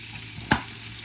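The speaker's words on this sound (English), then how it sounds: "The soy sauce is next, and you're just gonna stir it." Soy sauce being stirred in a pan of ramen, a soft background sizzle with one short sharp stir or scrape sound near the middle.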